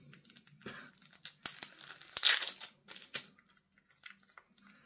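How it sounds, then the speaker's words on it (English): A cardboard box of diecast cars being torn open by hand, with crinkling, ripping and rustling bursts of paper and packing, irregular and close, with no voices. "Just gonna rip that open."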